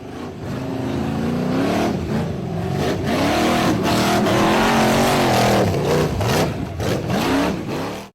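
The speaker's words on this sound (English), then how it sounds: "The black steel frame buggy was accelerating up a narrow dirt trench in the forest" A black steel-frame off-road buggy roars up a narrow dirt trench in a forest, its engine loud and near, revving and rising and falling in pitch throughout.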